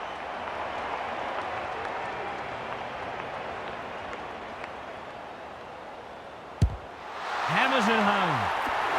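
Crowd noise from an AFL 26 video game match swells from a steady stadium roar into a louder surge near the end, broken by one sharp thud.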